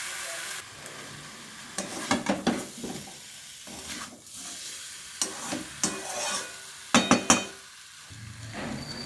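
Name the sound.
potatoes being stir-fried with spices for fish curry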